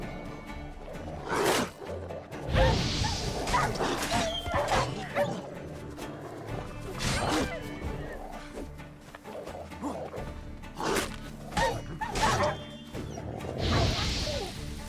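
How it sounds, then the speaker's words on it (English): Dogs bark, yip and snarl in combat in The Witcher 3 around White Orchard, with repeated sharp bursts over a busy backdrop of game sounds, fairly close and loud. "More dogs."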